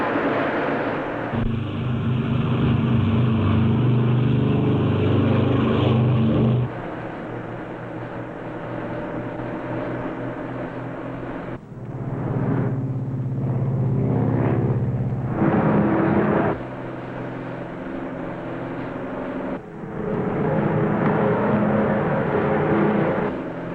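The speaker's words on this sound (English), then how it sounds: "Ready for takeoff. Takeoff power. Takeoff now." Propeller airplane engines from a 1953 flight run up to takeoff power, a loud, close, continuous roar that shifts in pitch and intensity across several stages, with no speech.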